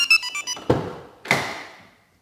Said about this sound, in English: So when we come to unlock it, it's now disarmed the alarm system.